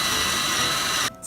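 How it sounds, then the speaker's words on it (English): A power drill bores holes in wood for a coffee table build, a steady loud whirring that runs for about a second and then stops abruptly. "I'm gonna use some clamps and then I'm gonna drill some holes."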